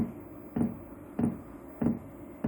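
A low mechanical pulse repeating three times at a steady interval, each a short muffled thump-hum as a Chinese 5 kW parking heater's fuel pump draws in fuel, quiet and close by with no talking.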